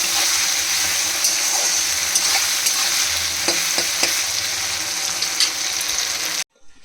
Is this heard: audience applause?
no